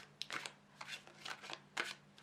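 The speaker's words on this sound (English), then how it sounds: "So I'm just going to shuffle the cards a bit." Tarot cards being shuffled by hand: quick, crisp riffling and slapping bursts in an irregular rhythm, close and fairly quiet, with no other sound around them.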